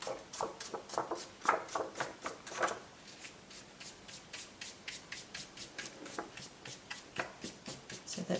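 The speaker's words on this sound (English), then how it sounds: "now I'll just brush it off" A brush sweeps loose mica powder off a craft card in quick, rhythmic strokes, a soft close-up scratching and whisking repeated steadily throughout.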